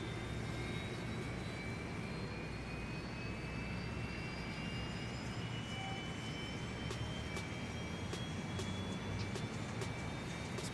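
Engines of a Toliss A319 airliner in the X-Plane 11 flight simulator spool up with a steady, even roar and a rising whine, alone and constant throughout.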